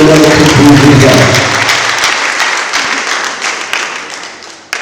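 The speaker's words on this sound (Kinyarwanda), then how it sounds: "Komeza amashyi." A church congregation applauds during a service, a dense wash of many hands clapping that starts loud with a tonal hum underneath and gradually thins and fades over several seconds.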